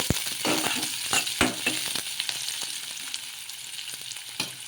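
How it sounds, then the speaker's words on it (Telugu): Chopped onions and green chillies frying in hot oil for gobi manchurian, a steady close sizzle with sharp crackles and occasional stirring knocks, with no voices. "ఆయిల్ వేడెక్కిన తర్వాత అందులోకి చిన్నగా కట్ చేసి పెట్టుకున్న ఆనియన్స్ పచ్చిమిర్చి అయితే వేసుకోవాలి వేసుకొని కొంచెం ఫ్రై చేసుకోవాలన్నమాట"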